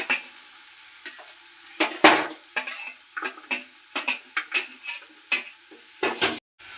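Onion and garlic frying in a pan for Maggi noodles, stirred with repeated close clacking scrapes of a spoon against the pan over a low sizzle, ending in a louder clatter.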